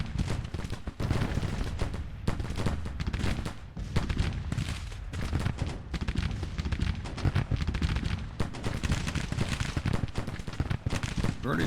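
Artillery battery fire in a Civil War video game: a dense run of booming cannon shots and crackling volleys rolls on continuously, loud and layered, with overlapping blasts at an uneven rhythm.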